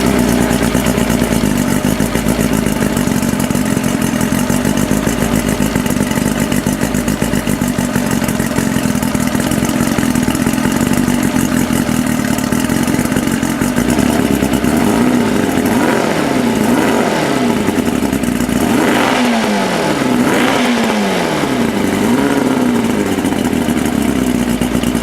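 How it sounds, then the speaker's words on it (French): A 1992 Mercury Classic 40 HP outboard motor with a newly installed engine block runs close by, a loud steady mechanical drone with clatter, then rising and falling revs in the second half. "puis prendre la manette, puis faire partir le moteur."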